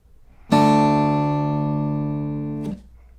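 Guitar in an alternate tuning plucked once, pick on the low sixth string with two fingers pulling two other strings, giving one near, clear chord that sustains steadily for two seconds and is then cut off with a slight string noise.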